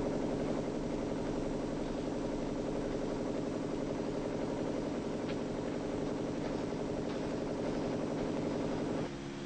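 Helicopter engine running steadily at a 1950s heliport under construction, a continuous low droning hum with mid-range whine that holds level throughout and drops slightly at the very end, no voices.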